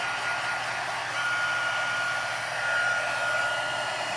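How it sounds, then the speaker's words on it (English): Heat gun for foil heat embossing with Deco Foil, blowing a steady close airy roar with a faint whine, running alone without talk. "now I have heat gun. This one's from Fun Stamper Journey, but you can use any heat gun. Turn it on, let it warm up first."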